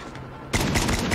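SKS rifle fire in the Call of Duty Mobile video game: a sudden loud burst of rapid shots breaks in about halfway through the moment and continues to the end.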